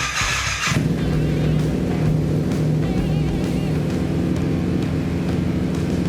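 A Yamaha FZ-07 motorcycle engine catches after a brief moment and settles into a steady, even idle, a loud, close, low throbbing rumble that runs on with no talking.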